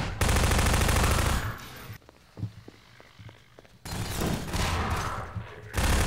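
Rapid automatic gunfire from the Half-Life 2 prison level, loud bursts opening and closing the stretch with a quieter gap of scattered single shots in between; no talk over it.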